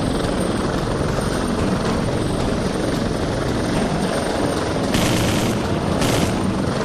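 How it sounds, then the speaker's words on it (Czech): Helicopter in the video game Prototype 2, a loud, steady rotor roar filling the whole stretch, with brief bursts of crashing or gunfire near the end and no talk over it. "Aj, ještě si rozbiju helikoptéru."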